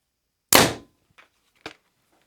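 A Mathews Lift X 29.5 compound bow fired during a speed test, one loud sharp crack of release followed by two faint brief knocks, with silence around them.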